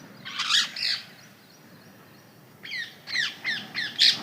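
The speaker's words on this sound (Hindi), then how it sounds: "कितने सारे प्यारे तोते बैठे हैं" Flock of parrots perched on a home rooftop, giving a few bursts of harsh, squawking calls, a pair near the start, then a quick series of shrill screeches toward the end, fairly close and loud.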